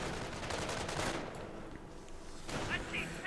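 In Company of Heroes 1, rapid autocannon fire rattles off in bursts across a busy battlefield. It is fairly faint and distant, with a short gap in the middle before another volley.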